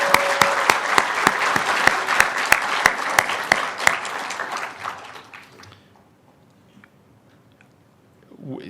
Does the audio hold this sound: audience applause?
yes